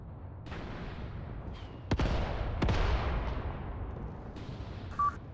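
Anti-tank gun fire in the WWII strategy game Mius Front, with two sharp loud blasts about a second apart over a steady background battle rumble, then a short later burst.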